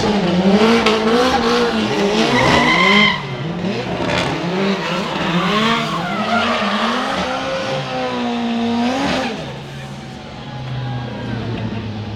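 A professional drift car spinning out during a Formula Drift competition in Palm Beach, with a loud wavering engine rev over sustained shrieking tire squeal, continuing for several seconds before easing off, while commentators talk over the action.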